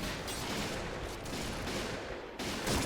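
Dense, continuous gunfire in the online shooter Point Blank, a steady rattle of rapid shots and bursts throughout, loud and close with no talk.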